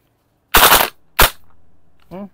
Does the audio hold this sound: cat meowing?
no